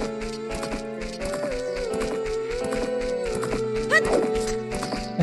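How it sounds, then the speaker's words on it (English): Epona the horse in Zelda: Ocarina of Time, with game music playing throughout and a brief whinny-like cry near the four-second mark alongside hoof clip-clops. "Epona, that's the horse I'm supposed to get"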